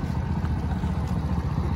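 A 2022 Bajaj Pulsar NS125 BS6 motorcycle engine idling nearby, a low, even putter that holds steady with no revving.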